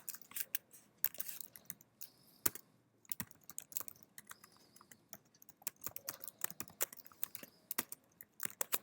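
Rapid, irregular clatter of typing on a computer keyboard, close and fairly quiet, with short pauses between bursts of keystrokes and no speech.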